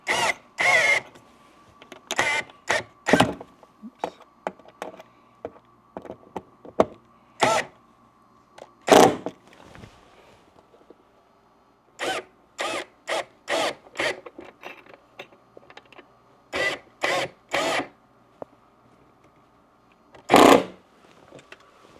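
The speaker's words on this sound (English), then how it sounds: "So with the screwdriver, we're going to go ahead and get these mounted." A screwdriver driving screws into zebra blind mounts at an inside window mount, heard as sharp ratcheting bursts in irregular clusters with short pauses between, close and fairly loud.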